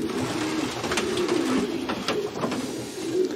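Racing pigeons coo steadily in a loft, soft low warbling calls overlapping continuously at close range, with faint rustling and background hiss throughout.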